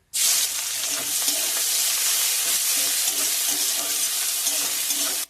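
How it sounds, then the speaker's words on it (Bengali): Chopped onion fries in mustard oil, a loud, even sizzle that begins abruptly and holds steady throughout, with faint stirring scrapes beneath it. "একটা বড় সাইজের পেঁয়াজ কুচি করে নিয়েছি, লাল লাল করে ভেজে নেব।"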